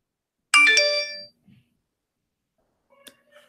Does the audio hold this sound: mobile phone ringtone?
yes